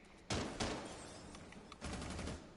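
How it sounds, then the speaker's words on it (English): Gunfire in a competitive video game match sounds as sharp, loud bursts: two quick single shots, then softer scattered pops and a longer rattling volley near the end. The shots are close and crisp, with no talking over them. "He heard the gunshots."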